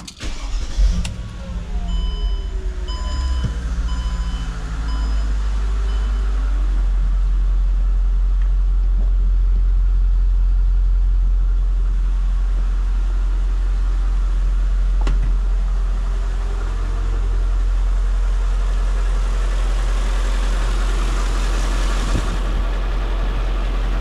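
A 2004 Mercedes-Benz CLK500 V8 starts with a brief crank and catch, then settles into a steady, loud, smooth low idle that runs on evenly for a long stretch, heard up close.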